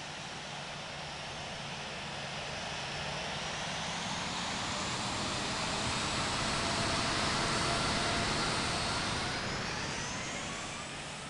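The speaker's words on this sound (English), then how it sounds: "Cleared for takeoff, runway 12" Aircraft engine noise swells and fades as a plane takes off from runway 12 on a flight from Canberra to Sydney, a broad, steady roar that builds to a peak near the middle before easing.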